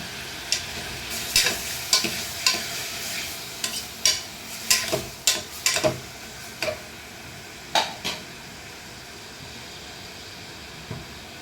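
Chicken sizzles in hot oil in a pan while it is stirred for a gravy. A steady frying hiss runs under sharp scraping strokes that come in quick irregular bursts, then thin out toward the end.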